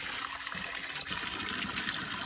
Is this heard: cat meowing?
no